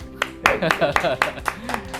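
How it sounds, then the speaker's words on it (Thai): Rhythmic clapping from a small group at a trading competition event, sharp regular claps about four per second, close and clear with a voice calling over them. "มาปรบมือให้ครับผม"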